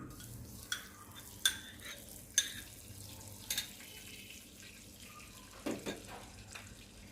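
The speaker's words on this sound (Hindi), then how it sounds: "अब हम इसमें डालेंगे देसी घी" Desi ghee is poured into roasted semolina in a pan for suji halwa, bringing a quiet sizzle broken by a few sharp spoon taps and scrapes, with no talking.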